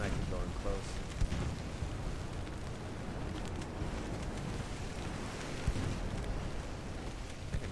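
A torpedo blowing up in the naval battle game Ultimate Admirals Dreadnoughts, a dense rumbling roar with rolling low booms that fills the whole stretch, while someone talks over it.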